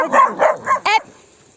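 A stray dog barks four times in quick succession, close and loud, the last bark sharper and higher, in an encounter with a pack of street dogs.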